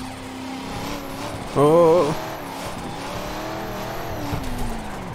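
A BMW E92 race car drifting off the start line gives a rising engine whine that jumps briefly loud, then settles into a steady drone. A voice calls out once over the engine.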